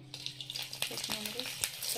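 Hot oil sizzles in a kadai as dal is tempered in a home kitchen, a brief crackling fry with a few sharp spits and faint voices nearby.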